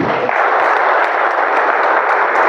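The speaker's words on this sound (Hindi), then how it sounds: "ताली बजनी चाहिए" Business seminar attendees applaud loudly and close up, a thick, continuous rush of clapping from a crowd that stays level for a couple of seconds without speech.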